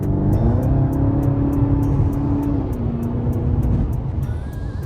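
A car engine hums steadily from inside the cabin, a low continuous drone with a slight rise and fall in pitch and a faint periodic ticking above it.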